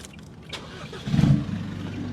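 A car engine revs up sharply with a throaty exhaust roar, swelling loud for a moment before settling into a rough, steady rumble.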